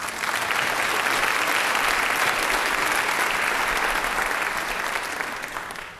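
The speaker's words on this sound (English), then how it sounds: "Maybe give them all a quick round of applause." A crowd at a 2012 senior recognition ceremony gives the senior class a quick round of applause, dense steady clapping filling the hall for several seconds before tapering off at the end.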